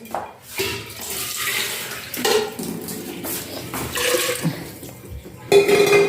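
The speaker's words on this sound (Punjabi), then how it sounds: "ਪਾਣੀ ਪਾ ਦਾਂ ਮੈਂ ਨਾਲੇ" Water is poured into a pot of green mung dal on a home kitchen stove, splashing and trickling in uneven bursts with metal pot and utensil clinks throughout, fairly close.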